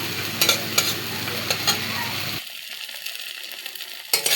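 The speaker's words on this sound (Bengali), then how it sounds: "এবারে মশলাটাকে কষিয়ে নেব" Spice paste with turmeric and salt for a raw mourala fish curry fries and is stirred in a pan, a steady sizzle broken by repeated scraping strokes of the spoon, then it quiets to a softer hiss before a final scrape.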